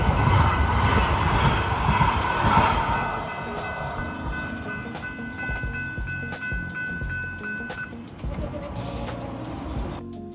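A modern Metro K Line light rail train rolls past nearby with a steady loud rumble, humming motor tones and rhythmic wheel clicks over the rails, the noise easing slightly as it moves on.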